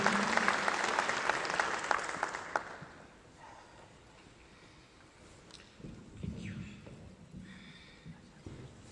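A crowd at a launch and fundraising event claps loudly for a few seconds as a speaker takes the podium, then the applause fades into quieter room noise with faint movement.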